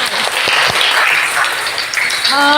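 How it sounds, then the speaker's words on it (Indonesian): Students in a classroom applaud during an art lesson, brisk close clapping with some voices mixed in, rising again just before it ends. "Tepuk tangan"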